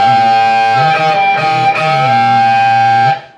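Distorted electric guitar lick, with a bend on the second string and vibrato, ringing loud and alone, then fading out.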